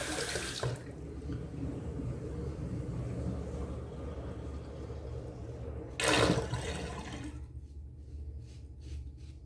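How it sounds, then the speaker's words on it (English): Water rushing in a bathroom sink as it drains and is rinsed after a shave, a steady close splashing flow with a louder surge partway through, and no speech. "I'm gonna wring out the sink here."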